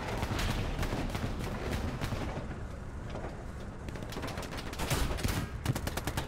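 Gunfire from a tank battle in a video game: rapid, dense bursts of shots and heavier booms, loud and steady throughout with a brief lull midway.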